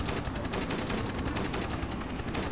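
Minigun fire in the shooter game Dead Trigger 2: a dense, unbroken roar of rapid shots at full volume with no pauses, heard alone without talk.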